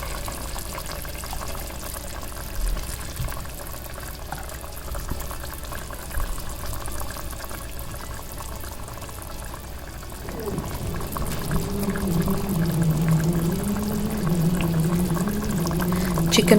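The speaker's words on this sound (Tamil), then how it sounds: "தண்ணி ஊற்றுனதுக்கப்புறம் நல்லா கொதிச்சு வருது" Chicken gravy in a pot bubbles and simmers steadily after water is poured in, growing louder partway through into a fuller, rolling boil; close, with a person talking over it at times.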